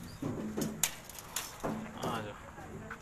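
Rooftop pigeons coo in repeated soft, low rolling phrases at close range, with people talking over and between the calls.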